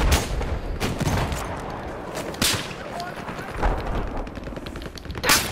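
Gunfire in the video game Battlefield 4: several sharp bursts of shots crack out at irregular intervals over a steady battlefield din, with a voice faintly present.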